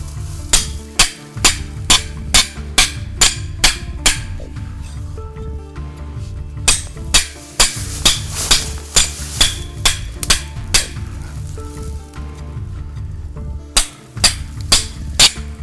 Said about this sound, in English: got a hammer and a chisel